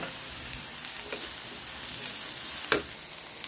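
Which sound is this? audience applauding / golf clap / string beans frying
string beans frying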